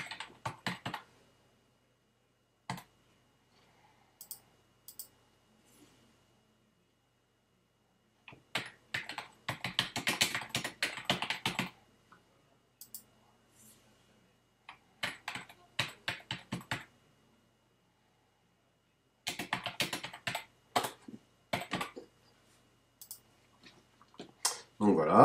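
Keys clatter on a computer keyboard while a form answer is entered, coming in quick irregular bursts of soft clicks separated by long silent gaps, fairly faint and close, with no talk.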